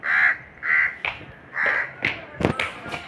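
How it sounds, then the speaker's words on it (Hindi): Crows caw in a village during rain, several loud, close calls in an uneven series with short gaps, alone, with a few soft taps. "वो कौवे अभी चूँ चूँ चूँ चूँ करने पर लगे ही पड़े"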